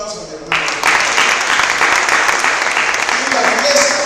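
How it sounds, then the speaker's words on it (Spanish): A church congregation breaks into applause after a brief voice, the clapping rising abruptly and continuing steadily and loudly with some background sound. "Regálale otro aplauso a mi hermano."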